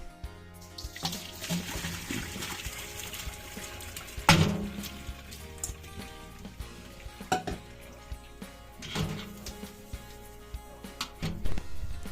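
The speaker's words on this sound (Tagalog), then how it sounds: "ito po ay ating tanggalin at i-drain po natin ito" Blanched bitter gourd (ampalaya) is drained in a kitchen, with water splashing and trickling alongside scattered clanks of a pot and utensils and one sharper knock partway through.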